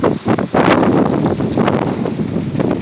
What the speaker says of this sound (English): Leaves just blowing everywhere.